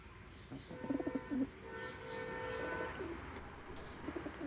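Malwai pigeons kept in backyard coops coo in low, soft, repeated bursts against a steady background hum, the calls close and moderately loud.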